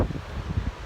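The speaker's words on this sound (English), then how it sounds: "As you can see today, it's really windy." Strong seaside wind buffets the microphone in low, gusty rumbles over a brief moment, loud and close with no voices.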